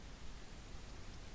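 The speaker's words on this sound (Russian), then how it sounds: "На улице, кстати, дождик." Steady, faint hiss of rain falling in the video game Ranch Simulator, a soft even wash of noise with no other sounds.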